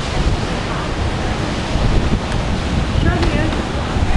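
Ocean surf and strong wind at Vero Beach Disney Resort on the Florida coast, a steady loud roar of breaking waves buffeted by wind gusting against the microphone throughout.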